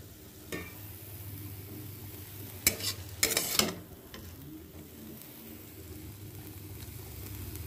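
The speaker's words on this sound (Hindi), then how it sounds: "अब इसमें ये साग डालेंगे।" Drumstick (sahajan) leaves dropped and stirred into a pot of dal, a few brief clattering scrapes over a low steady simmer and hiss.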